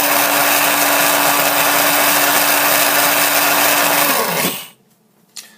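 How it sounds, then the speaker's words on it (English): A KitchenAid electric coffee grinder grinds beans in one loud, steady whirring burst that runs about four seconds and then winds down abruptly, followed by a brief clack. "This is a KitchenAid. Very nice grinder. Simple. Hit it."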